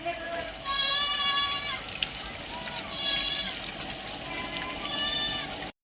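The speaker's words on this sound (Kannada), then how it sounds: "ನೋಡಿ ಒಂದು 10 ಆಡು ಸಾಕೊಂಡಿದ್ದೀನಿ" Goats kept on a small farm bleat in three drawn-out bursts, each call wavering and fairly close, with steady outdoor background noise between the calls.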